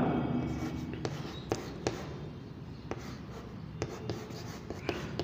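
A pen writes on paper during a classroom lesson, making a continuous close scratching with scattered sharp taps from strokes and dots, steady and moderately loud, with no speech.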